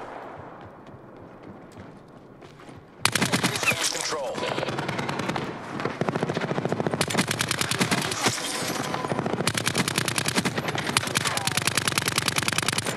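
Rapid automatic gunfire from a video game bursts in loud and continuous after a quiet start, with dense repeated shots running on to the end and a voice faintly underneath.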